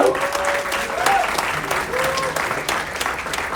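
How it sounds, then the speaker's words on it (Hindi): Audience applause at an Indian Army tribute event in Brampton, a full crowd clapping steadily and loudly, with a voice speaking briefly over it. "give a round of applause for him"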